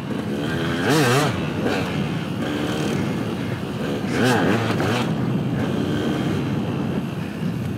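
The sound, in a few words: motorcycle engine while riding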